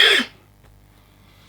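A short, sharp throat-clearing cough bursts out close to the microphone and stops within a fraction of a second, leaving only faint room hiss.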